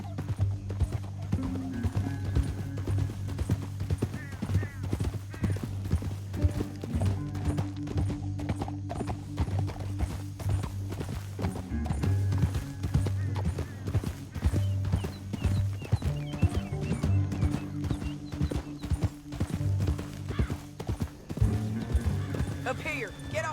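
Rapid hoofbeats clatter in a steady galloping rhythm throughout in the video game Red Dead Redemption 2, loud and close, with a horse whinnying at times and faint voices underneath.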